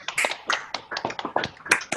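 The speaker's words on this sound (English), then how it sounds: "we're going to give a big round of applause to everybody that showed up today" Unmuted participants in an online Toastmasters club meeting clap together, a close, uneven scatter of individual hand claps and taps coming through separate microphones, with no talking.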